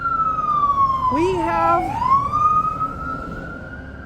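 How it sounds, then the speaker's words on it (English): A fire truck's siren wails past in a residential yard, rising and falling loudly as it goes by, then trailing off into a steady tone while a person talks briefly. "Oh, sorry for the siren."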